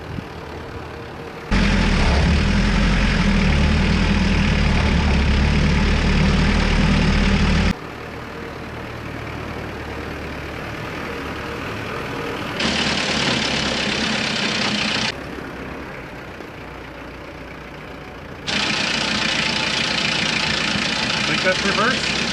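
A small, cheap left-hand-drive diesel mini truck idles with a steady low rumble. The engine noise jumps between louder and quieter stretches as the recording level shifts, and no voices are heard.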